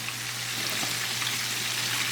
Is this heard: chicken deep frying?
yes